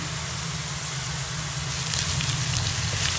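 Ginger garlic paste frying with onions in a pan, a steady close crackling sizzle with a low hum underneath, constant throughout with slight brightening toward the end.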